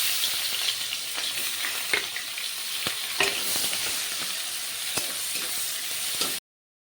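Onion paste sizzles and fries steadily in hot oil with cumin in a pan, a bright continuous crackle with occasional stirring taps, close and alone until it cuts off abruptly.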